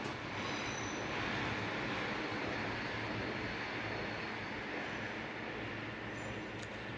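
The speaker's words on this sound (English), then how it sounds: "while a train is passing by" Broad, constant rumble and rush of a train rolling by nearby, steady and fairly loud the whole time without any voices.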